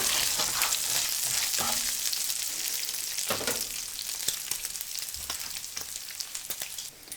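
Chopped bacon fries in a pan with a bright, constant crackle and hiss, close and moderately quiet, with scattered pops and scraping throughout.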